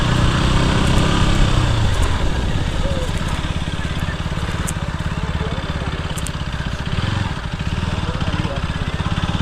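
A 2022 KTM RC 200 motorcycle engine runs steadily while riding through open ground, a loud continuous drone with strong low rumble and wind noise.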